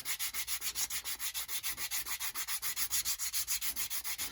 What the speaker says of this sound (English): just run your sandpaper along the leading edge